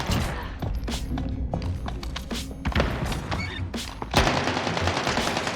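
Gunfire in the Warzone video game crackles in rapid bursts and single shots, with thuds and footsteps, growing denser and louder toward the end.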